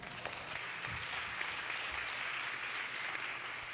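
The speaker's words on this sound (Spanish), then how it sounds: "Muy importante, un fuerte aplauso." Sustained applause fills a women's congress hall, a steady dense wash of clapping from a large audience that carries evenly throughout without pause.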